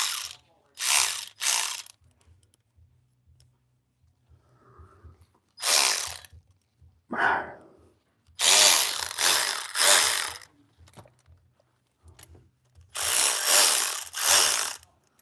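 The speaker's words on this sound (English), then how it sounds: "I'm surprised you even have a torque wrench that'll do that." A torque wrench ratchets in loud, repeated bursts of rapid clicking while a Ford Transit engine is being installed, with pauses between the bursts and a little low hum in the background.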